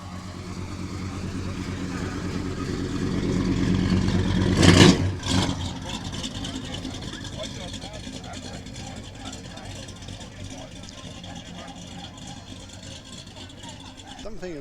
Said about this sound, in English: let's listen to the Chevelle instead